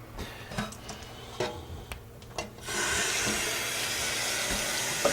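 Stopping-and-starting clicks and small knocks give way to a steady rush of tap water running into a sink as vegetables are rinsed, close and continuous.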